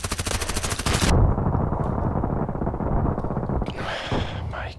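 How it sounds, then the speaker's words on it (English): Gunfire in the shooter game Contract Wars, opening with a rapid machine-gun burst, then dense sustained firing and clatter that fades slightly toward the end. "Blind shooting here."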